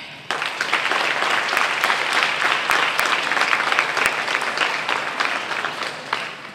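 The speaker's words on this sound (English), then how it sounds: "So can you please give a round of applause to your state senator, Lonnie Randolph." An audience in a hall gives a round of applause for a state senator at a youth science event in East Chicago, Indiana: loud, dense, sustained clapping with a few sharp individual claps standing out.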